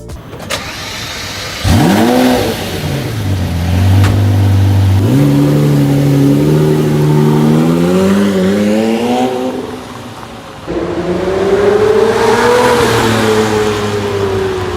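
Lamborghini Murcielago with a 6.5-liter V12 in a Need for Speed racing game, loud engine revving and accelerating through rising gear sweeps, a brief drop near the end before climbing hard again, close and alone.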